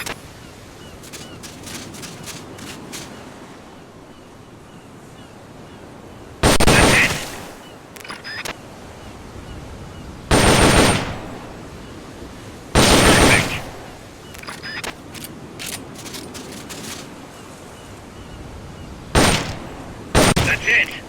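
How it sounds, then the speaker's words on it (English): M16 assault rifle fire in Metal Gear Solid Peace Walker, several loud separate bursts of rapid shots breaking out over a quieter game background. "The M16 is a standard assault rifle,"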